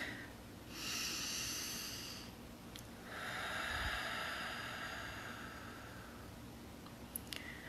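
Slow deep breathing exercise: two long, airy breaths in and out, each lasting around two seconds, close and fairly soft over a quiet low hum, with a brief snort-like puff near the end.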